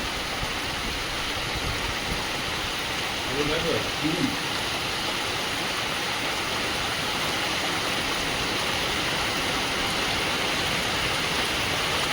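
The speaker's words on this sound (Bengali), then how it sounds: "বলতে বলতে দেখুন কি জোর বৃষ্টিটা এসছে" A heavy monsoon downpour roars in a dense, steady, loud hiss throughout, with a brief faint voice partway through.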